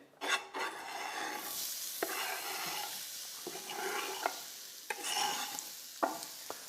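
Onions going into hot rapeseed oil in a pan, a soft steady sizzle broken by repeated scraping and stirring strokes, fairly quiet and close, with no talk.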